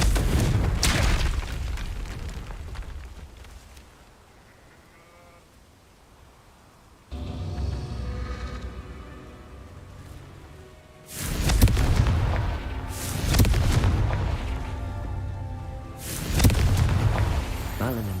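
A fire spell bursting into explosions in Hogwarts Legacy on hard difficulty, with loud booming blasts at the start and then a run of heavy, rumbling explosions later, separated by quieter game ambience.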